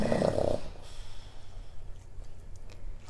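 Soft, rough snoring breaths from a small pug mix dog, close by, with a brief louder snort at the start and steady low rumbling after.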